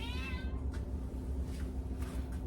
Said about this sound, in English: She's one of my baby kitty cats.